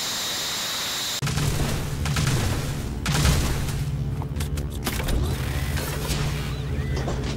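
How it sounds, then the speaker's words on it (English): Gun firing in Arc Runner 2 on a dock level: a steady hum cuts abruptly into loud, rapid mechanical shots and booms with a droning tone beneath, continuing in uneven bursts throughout. "just firing this gun makes me feel like a vandal"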